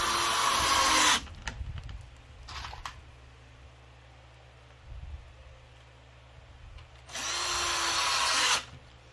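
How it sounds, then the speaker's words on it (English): A power drill boring pilot holes in wood pieces for a picket fence, two loud whirring bursts at start and end with quieter handling knocks and short bursts between. "you can finish drilling your pilot holes"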